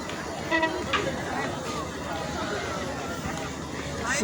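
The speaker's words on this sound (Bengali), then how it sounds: "ট্রেন চলে এসে" Train pulling into a busy station in Bangladesh or West Bengal, a steady rumbling roar throughout with a brief horn-like tone near the start and a crowd chattering over it.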